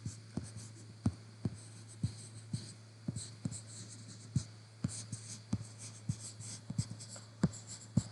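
Someone writes words on a board in a classroom, sharp tapping strokes coming in a quick, uneven rhythm over a steady low hum, with no speech.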